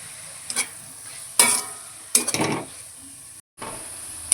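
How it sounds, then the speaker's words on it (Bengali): Spices, tomato, turmeric and Kashmiri chilli powder frying in oil for a Bengali tarka, with a steady sizzle broken by several scraping stirs of a spatula and a brief silent gap near the end. "এবার সব কিছু তেলের মধ্যে একটু কষিয়ে নেব।"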